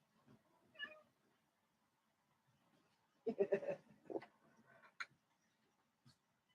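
A cat meows a few times close by, short bursts spread over several seconds with quiet gaps, in a room where someone is livestreaming.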